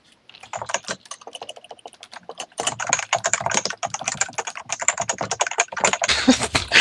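Rapid, continuous clatter of keys on a computer keyboard, close and fairly loud, with brief pauses between bursts.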